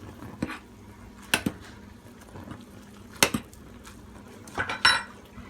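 A metal spoon clinks against a bowl of soup in a quiet kitchen, giving a handful of sharp, scattered taps and scrapes spread over a few seconds.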